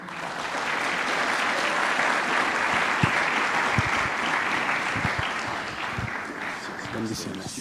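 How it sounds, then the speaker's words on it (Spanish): A church congregation at a leadership conference session in La Paz, Bolivia applauds to welcome pastor Pablo Shin, loud sustained clapping from a large crowd with a few louder claps and faint voices mixed in. "Queremos darle la bienvenida, por favor, con un fuerte aplauso"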